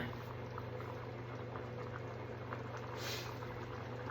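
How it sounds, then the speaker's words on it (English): Pot simmering on a stove, a soft continuous bubbling with faint pops, steady and fairly quiet, with no talk over it. "that's simmering"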